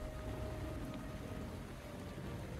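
Rain falling outside a window in the mystery adventure game Chronicles of Mystery: The Scorpio Ritual, a faint, steady patter with a low rumble beneath and a thin sustained tone running through.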